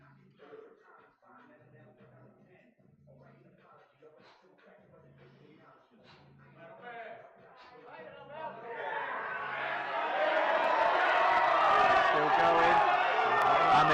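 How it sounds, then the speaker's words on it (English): A powerlifting crowd at a European single-lift championship swells from chatter into loud cheering and applause for a lifter's final attempt, building over the last several seconds while a commentator speaks. "crowd are behind him"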